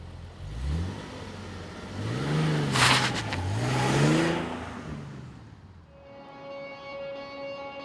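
A 2016 Nissan 370Z Nismo pulls out onto the street, its engine revving up through several rising and falling sweeps, loud and close, before settling into a steadier hum with a whine as it cruises on.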